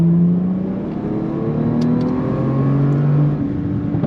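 A 2022 Bentley Continental Speed accelerating on a race track, engine droning loud and close with rising pitch through the gears, a steady sustained roar throughout.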